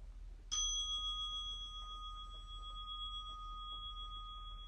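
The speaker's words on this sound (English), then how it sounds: "you will hear a bell every 5 minutes" A single meditation bell rings once, struck clearly and then left to sustain a long, pure ringing tone that slowly fades over a quiet room.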